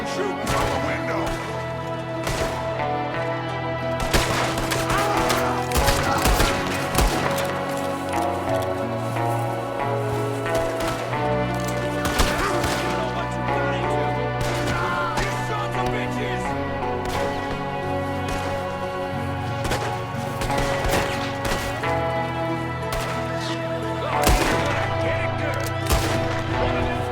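Gunfire in Red Dead Redemption 2: scattered shots crack through a steady, loud musical score, with a dense cluster of reports early on.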